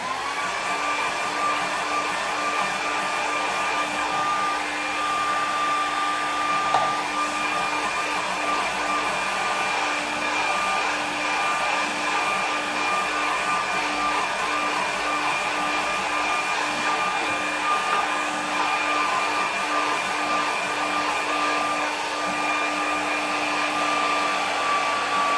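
A hair dryer blows steadily on a watercolour painting taped flat to plywood, a continuous close whirring roar with a constant motor whine that holds evenly for the whole stretch with no talk.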